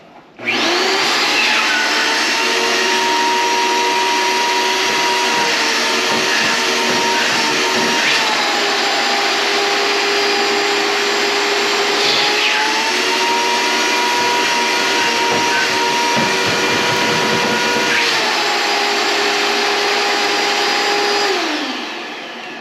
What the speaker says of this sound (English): I'm going to see if I can suck that leaf out with this little mini shop vac.